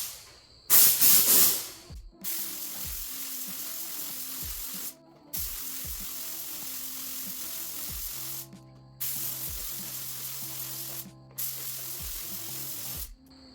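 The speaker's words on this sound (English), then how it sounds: "let's go ahead and add it to the spray gun and spray it" A spray gun lays down black pearl clear coat in four long, loud hissing passes, each ending in a brief pause, preceded by a short sharp burst of spray.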